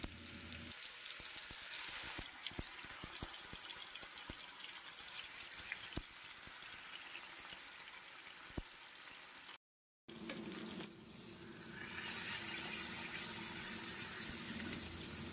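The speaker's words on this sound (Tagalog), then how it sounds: "Ipiprito natin yung pork chop." Pork chop frying in a little hot oil in a pan, a steady dense sizzle and crackle that fills the clip, briefly cut off then returning stronger.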